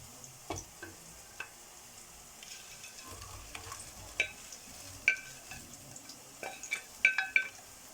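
Eggplant with spices sizzling in a pan, a low frying hiss under sharp clinks and scrapes of a spoon against the pan as it is stirred, quiet and close, sporadic knocks growing busier toward the end.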